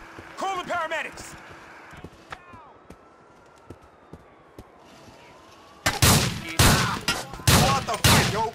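Gunfire in GTA IV: a few scattered pops and cracks at first, then a loud burst of heavy shots near the end, with game voices shouting in between.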